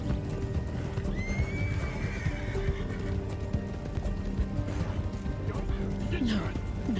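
Horse whinnies and hooves clip-clop at a gallop in Red Dead Redemption 2, the neigh rising clearly around the middle over steady hoofbeats and busy game ambience, with voices talking underneath.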